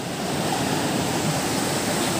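Steady, unbroken rushing roar of the Kabadisan waterfall in a forest, heard close and alone with no voices.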